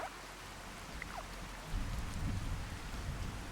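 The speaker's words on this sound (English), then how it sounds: "Oh, it's heavy rain again." Heavy rain pours in a survival video game, a continuous wash of patter that swells slightly partway through. It stays fairly faint, with no talking.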